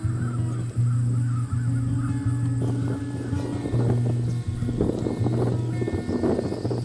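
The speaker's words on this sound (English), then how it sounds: "there are a ton of crows out here today" Crows caw repeatedly over recently cut cornfields by a creek. The calls are loud, harsh and rhythmic, and several birds keep up the cawing throughout against open outdoor ambience.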